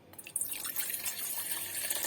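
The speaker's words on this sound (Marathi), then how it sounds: "हे बघा अर्धा ग्लास पाणी टाकून घेतलं आहे" Half a glass of water poured into a pot for tea, a short splashing pour that starts softly, builds after a moment and runs steadily nearby.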